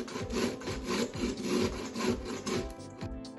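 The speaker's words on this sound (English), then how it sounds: "we are gonna need a bowl and a box grater, and we are gonna start grating it" Cauliflower held by the stalk is grated on a box grater, rhythmic rasping strokes about five per second, close and fairly loud, with no talking.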